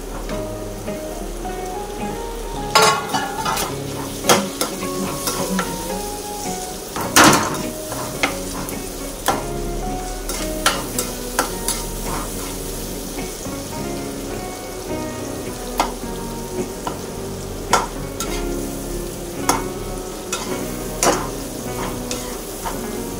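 Onion and tomato with turmeric cook in a pan under a steady sizzle, broken by repeated sharp clacks and scrapes from a stirring spoon at irregular intervals.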